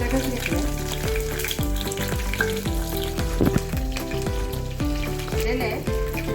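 Green chillies frying in a pan, a loud continuous sizzle with rhythmic crackling bursts and steady spattering throughout.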